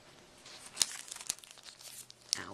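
Craft paper stickers are unwrapped up close, crinkling and rustling in soft bursts, with a few sharper crackles standing out above the quiet handling, no voices.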